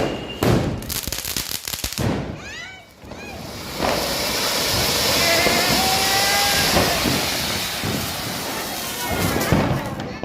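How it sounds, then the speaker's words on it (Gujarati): Firecrackers set off by small children on Diwali night, a burst of rapid crackling pops at the start followed by a long roaring hiss of a fizzing firework, with people talking nearby. "નાના છોકરા ફોડે ફટાકડા."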